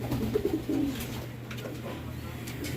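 A racing pigeon just home from a training toss gives soft, low coos close by, a few short murmuring calls early on over quiet background hum.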